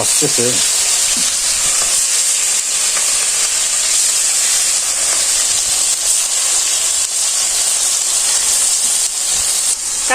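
Fish sizzling as it fries in a pan on an indoor home stove, a steady broadband hiss running loud and unbroken throughout.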